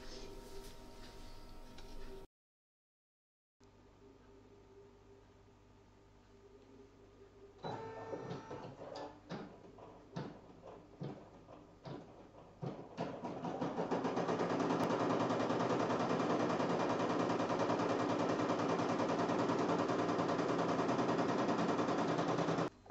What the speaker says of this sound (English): I'm going to put it in my machine to stitch the outline now.